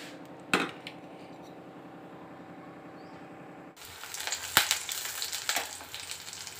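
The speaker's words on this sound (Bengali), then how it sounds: "এখানে শুকনো লঙ্কা, পেঁয়াজ ভাজা হচ্ছে" Dried chillies and onion frying in a pan, a quiet sizzle with a sharp clack early on, then growing louder and busier after the midpoint with irregular crackles and stirring noises.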